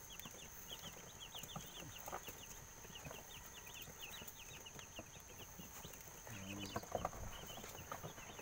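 Small young chicks peep in dense, rapid chirps throughout, a steady chorus of thin calls near and far around a feeding spot, with no talking.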